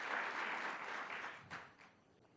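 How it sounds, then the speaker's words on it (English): Brief round of applause from an audience at a New York governor's public announcement event, a dense clapping wash that fades out over a couple of seconds, fairly faint and distant. "Let's give them a round of applause as well."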